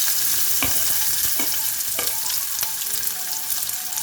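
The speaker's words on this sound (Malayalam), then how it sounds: "ഇതിലേക്ക് സ്ലൈസ് ചെയ്ത് വെച്ചിരിക്കുന്ന സവാള ഇട്ട് കൊടുക്കാം." Sliced onions frying in hot oil with cinnamon, cardamom and cloves, a loud, bright, continuous sizzle broken by several clattering spatula stirs against the pan.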